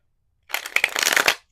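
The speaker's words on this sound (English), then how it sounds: "Let's do one more shuffle." Tarot cards get one quick riffle shuffle, a crisp, close flutter of papery slaps lasting about a second in an otherwise quiet room.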